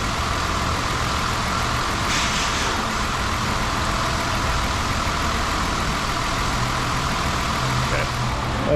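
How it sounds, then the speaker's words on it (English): A car engine with a bad misfire runs steadily, a rough idle under the bonnet heard up close with a constant low rumble, while people talk over it. "Oh, that misfire is bad."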